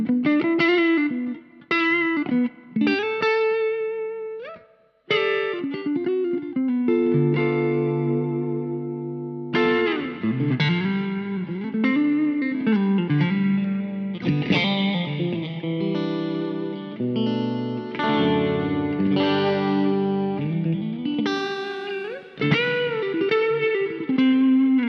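Electric guitar played through an IK ToneX pedal, distorted notes and chords ringing with reverb and echo tails, sustained phrases with brief pauses, loud and close with no talking.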